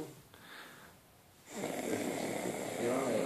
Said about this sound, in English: Can let him off with a little snore, can't we?